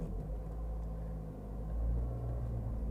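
A manual transmission car pulling away as the clutch is released with some gas, a low steady engine rumble from inside the car that swells slightly as it moves off.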